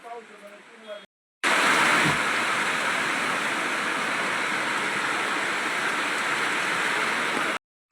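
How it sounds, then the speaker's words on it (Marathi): Heavy rain pours in a dense, steady hiss, loud and unbroken for several seconds after a short stretch of talk. "पाऊस म्हणजे काय आज उघडणार नाही इतका पाऊस आहे"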